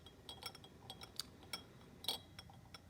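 Glass rod or stirrer clinks lightly against a glass test tube holding cooling naphthalene, a quick, irregular series of faint, close, bright taps over near silence.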